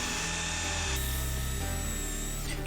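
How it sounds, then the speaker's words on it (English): Power drill boring into wood to seat keyhole mounting plates for a coatrack built from scrap, a steady close whine that drops in pitch as the bit bites and then eases off near the end. "A little drilling, a lot of chiseling."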